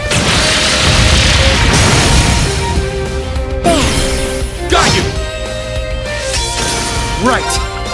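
Gunfire attack in the turn-based battle of Trails of Cold Steel II, loud booming shots and crashing impacts with ringing effect tones, under character voices calling out.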